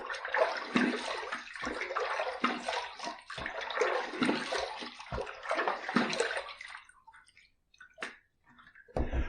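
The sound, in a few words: rinsing face with running water after shaving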